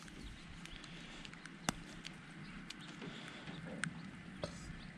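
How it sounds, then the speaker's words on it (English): Rain falling outdoors, a faint, steady soft patter with a few sharper drop hits scattered through it, and no voices. "It is raining"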